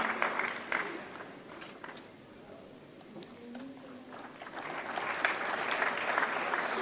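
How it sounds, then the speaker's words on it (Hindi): An audience applauds award winners at the 69th National Film Awards ceremony in 2023, a sustained crowd clapping that dips briefly and then swells again toward the end. "जोरदार तालियों से स्वागत करें."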